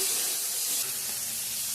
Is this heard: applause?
no